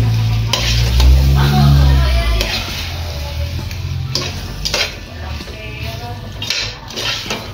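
A spoon stirs tomato sauce through goulash in a metal pot, scraping and clinking against the sides over a low background sizzle, close and uneven, with a few brief bursts of voice between the strokes.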